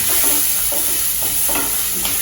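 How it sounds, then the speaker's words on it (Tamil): Ginger and green chili fry in oil for rava idli with a loud, continuous sizzle, broken by rhythmic stirring scrapes every half second or so. "இஞ்சி பச்சை மிளகா நல்ல போட்டு தீயை பார்த்து வச்சுக்கலாம்"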